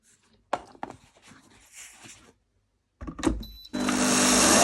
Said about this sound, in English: So the blender, we're going to blend.